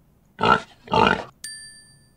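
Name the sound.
pig oinking in a find-the-animal children's game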